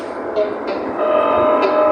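A train pulls into a station late at night with a rumbling, squealing rolling sound. Sharp brake-like screeches and tonal whines rise and fall over a steady mechanical rumble, fairly loud and close.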